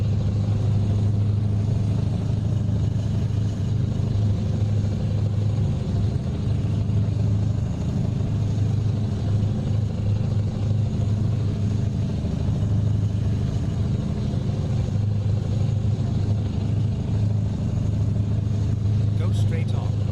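Simulated heavy truck engine from Euro Truck Simulator 2, a steady low droning hum that runs continuously throughout at a constant loud level, with no change in pace.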